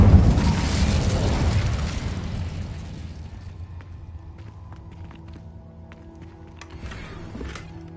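A fire spell in Hogwarts Legacy erupts with a loud whooshing burst at the start, then settles into a lower crackling rumble with faint scattered clicks and steps.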